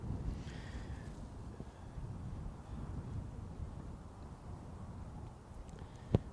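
Blustery outdoor wind buffets the microphone on a mound near an airfield, a continuous low rumbling roar with gusty swells and a sharp knock near the end.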